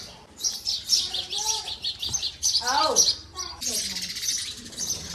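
Sparrows chirping close by in short, bright bursts, with a few brief lower squeaky calls mixed in and scattered human voice sounds in the background.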